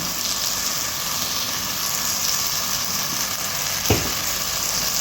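Meat frying in a pan with a little curry powder, giving a steady close sizzle with a single brief stirring knock near the end.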